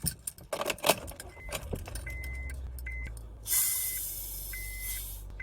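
Keys jangle and clink in a quick metallic flurry inside a car, followed by softer rattles and a steady hiss in the background.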